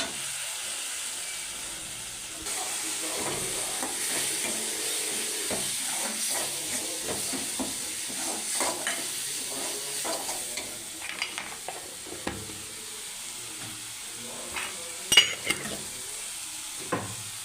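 Tomatoes sauté in a pan for an oil-fried brinjal tamarind curry, giving a steady sizzle and hiss with frequent stirring scrapes and a few sharper clinks of the spoon near the end. No one speaks.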